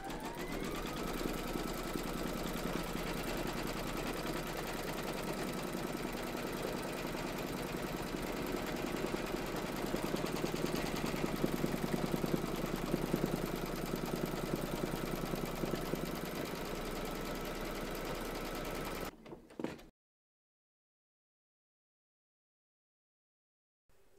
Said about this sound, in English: Pop your hoop into your machine and stitch round number three, and that's going to secure your fabric in place, and it's going to quilt it as well